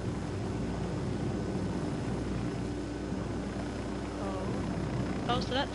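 A helicopter flies in the video game Ghost Recon Wildlands, giving a continuous low rotor and engine drone throughout, with brief chirpy voice-like sounds rising near the end.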